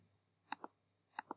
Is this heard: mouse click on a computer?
yes